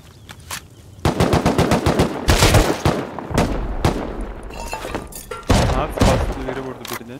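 Bursts of rapid automatic gunfire in the survival game Rust, loud close rattling volleys broken by short pauses and single heavy shots, alone without voices.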